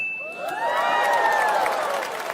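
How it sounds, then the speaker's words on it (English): A comedy show audience responds with a swelling burst of cheering and clapping, mixed with excited shouts and whoops, loud and sustained for a couple of seconds. "Now, some of you are clapping,"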